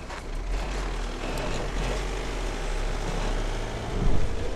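A VW Amarok pickup drives at low speed over rough ground and through an obstacle. A low engine rumble runs beneath broadband rolling and wind noise, and a heavier bump comes near the end. No one speaks.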